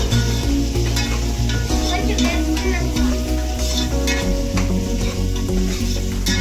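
Chicken pieces for biryani frying and being stirred in a pan, a steady dense sizzle with scraping stir strokes and a low constant hum underneath, loud and close throughout.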